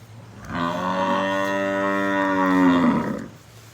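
A single long, loud moo from a cow nearby at a dairy farm in Turuvekere, Karnataka, drawn out for a few seconds with a clear tonal bellow, and no one speaking.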